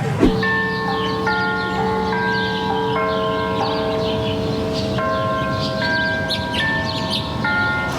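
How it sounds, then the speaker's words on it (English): Church bells peal in a small Catholic town early in the morning, several bells of different pitches overlapping in a steady, ringing, unhurried sequence that carries on throughout. "It's like 7 in the morning and they're ringing all kinds of bells."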